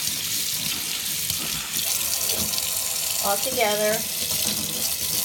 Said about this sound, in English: that's when I just rinse them off